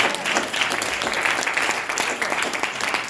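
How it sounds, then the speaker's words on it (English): Congregation applauding during a Sunday church service, dense continuous clapping close and loud throughout, with faint voices mixed beneath. "You need to clap for that."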